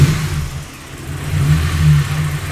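A Ford AU Falcon engine with Pacemaker 4480 extractors rumbles steadily at cold-start idle, low and throaty, swelling slightly as if lightly revved, with no voices.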